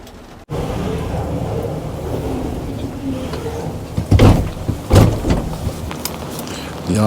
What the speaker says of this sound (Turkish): Yağmur gerçekten aşırı yağıyor.